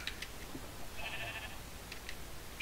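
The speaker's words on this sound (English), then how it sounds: "Sheep." Sheep in the Minecraft video game bleating in short, faint game calls, a few brief bleats repeating over a quiet background with no talking.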